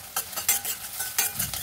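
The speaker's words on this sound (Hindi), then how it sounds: "अब तेल में डाल दूँगी जीरा हींग।" Cumin and asafoetida hit hot oil for a tadka in a chole sabji, sizzling with a close, bright hiss broken by several sharp stirring scrapes and spoon clinks; no voices.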